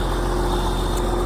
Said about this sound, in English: So we got the grain back tractor fired up